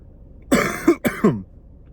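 A person with flu coughs hoarsely in three quick, rough bursts, fairly close and otherwise quiet.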